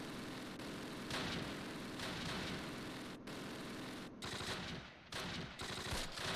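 Machine gun fire in the World War II strategy game Close Combat at Arnhem rattles in long dense bursts with brief gaps, loud and continuous over a noisy battle background.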